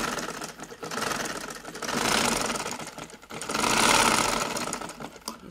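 A sewing machine stitching a neck strip and lace on a kurti, running in a fast steady chatter that swells and eases in bursts, close and alone.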